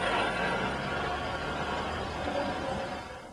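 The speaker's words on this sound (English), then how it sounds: "a mechanical buzz or rattle noise coming from underneath the car" Mechanical buzz and rattle from the driveline underneath a 2002 Chevrolet Corvette C5, a steady broadband drone holding level throughout and easing off slightly at the end, with no talking.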